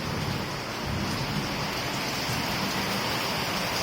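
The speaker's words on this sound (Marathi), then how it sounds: "मोठा गडगडून असा पाऊस यायला लागला विजा वगैरे आहे भरपूर होत होतं" Heavy rain pours steadily in a dense, unbroken roar during a thunderstorm with lightning, filling the whole stretch at a loud, constant level without any voices.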